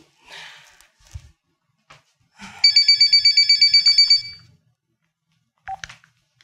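A telephone rings in one rapid trilling burst lasting over a second, surrounded by quiet rustles and soft knocks.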